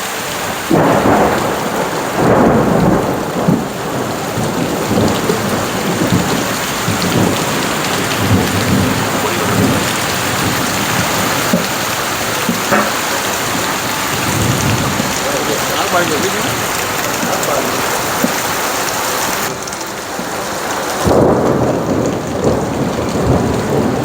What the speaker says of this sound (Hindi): चलो बस थोड़ी स्लो हो गई बारिश।